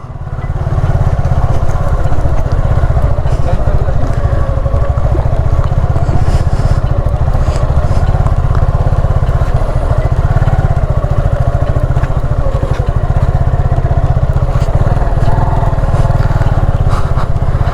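A Suzuki Gixxer motorcycle engine roars loudly and continuously up close, with rumbling and rattling as it rides off-road over rough, muddy ground near Musapur Closure, Noakhali, Bangladesh.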